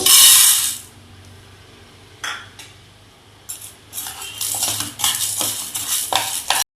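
Chana dal roasts in a little oil while a spoon stirs it, making scraping clatters and gritty rattling bursts against the pan, with a soft sizzle beneath and a couple of quiet gaps.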